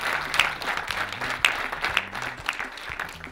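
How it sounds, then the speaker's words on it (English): Scattered audience applause at an environmental exhibition and knowledge fair prize announcement, moderately quiet and a little distant, with a few sharper individual claps standing out. "Another round of applause"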